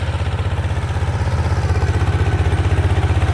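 A single-cylinder walk-behind tractor engine, converted into a ride-on tractor, chugs steadily and loud and close, its rapid regular thumping pulse lasting throughout with no talk.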